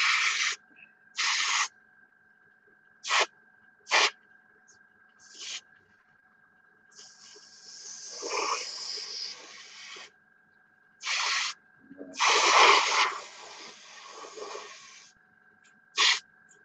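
Short bursts of an aerosol spray can hiss over a model car as clear coat goes on, several quick puffs and a few longer sustained sprays, fairly close and loud with quiet gaps between, no talking.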